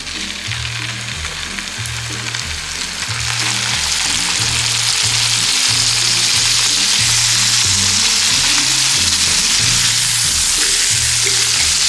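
Beef steaks sizzling in melted butter in a home kitchen pan, a loud, steady crackling fry that grows fuller after a few seconds and continues without pause, with a low rhythmic hum underneath.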